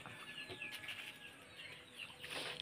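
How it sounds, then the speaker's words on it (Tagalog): Chickens flapping their wings with scattered clucks and chirps, a busy close flurry of wing beats on a small backyard flock, no talking. "Mga manok. Ang aming konting"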